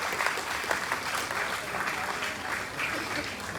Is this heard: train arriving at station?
no